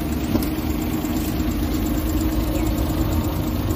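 A vehicle engine idles in a steady, unbroken drone, loud and close throughout, with a single short spoken word over it.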